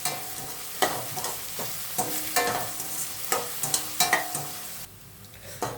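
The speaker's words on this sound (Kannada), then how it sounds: "ನೋಡಿ, ಆನಿಯನ್ ಫ್ರೈ ಆಗಿದೆ ಚೆನ್ನಾಗಿ." Sliced onions sizzle in a pan of hot oil while a spatula scrapes and stirs in an uneven rhythm; the frying sound stays close and continuous, easing slightly near the end.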